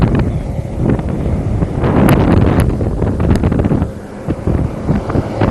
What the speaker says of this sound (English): Much warmer and a lot windier today than it was the last time we were out here.